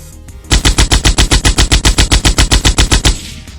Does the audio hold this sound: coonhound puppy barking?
no